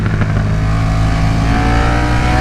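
A 2022 KTM 1290 Super Duke R motorcycle accelerating, a loud, continuous engine roar with rising rumble and harmonic whine, heard up close without speech.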